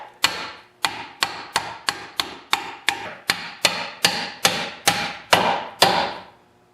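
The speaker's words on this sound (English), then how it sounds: "just use a piece of hardwood and a hammer" A hammer drives a hardwood block to tap a gear onto a keyed shaft during a snowblower auger gearbox rebuild, giving about a dozen sharp, evenly spaced wooden knocks with short ringing decays, close and loud.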